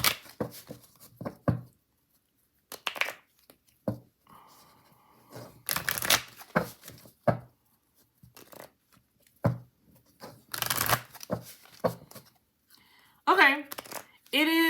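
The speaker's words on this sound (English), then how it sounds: "Let's shuffle mass market." A mass-market oracle card deck being shuffled by hand, repeated crisp riffling and shuffling bursts in irregular bursts, close, with a person speaking between them.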